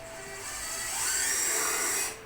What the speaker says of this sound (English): Start your bit, put the drill on reverse, and push.